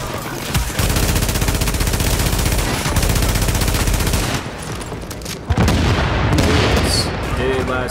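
Rapid automatic gunfire from the Xbox One shooter Tom Clancy's The Division, loud sustained bursts filling most of the stretch with a short gap before firing resumes, a voice briefly talking over it.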